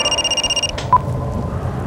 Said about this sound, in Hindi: मैंने कुणाल को फोन किया।